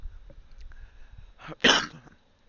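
A single sharp, forceful cough close by, after a stretch of quiet background rumble.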